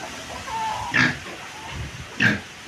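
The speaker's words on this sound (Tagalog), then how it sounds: "Tingnan po natin yung alaga ko pong baboy." Two pet pigs, fed after their dinner, grunt and squeal up close in a few short bursts with gaps of quiet between them.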